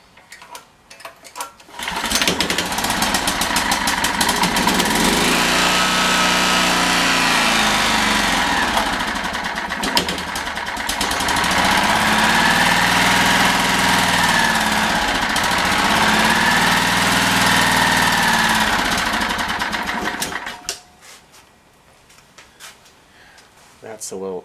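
A Generac generator engine runs with a rough, uneven idle, a loud steady buzzing chug that surges in slow waves for about twenty seconds before cutting out, with a short restart at the end.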